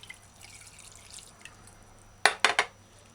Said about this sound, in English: Add 2 cups water in the bowl.